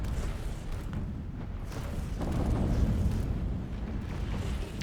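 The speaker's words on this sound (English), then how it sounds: "Giga cannon doing a lot of damage." Giga cannon fire and explosions from a space fleet battle against a citadel in the Stellaris strategy game, a continuous rumbling roar of blasts and booming impacts swelling in the middle, with no talking.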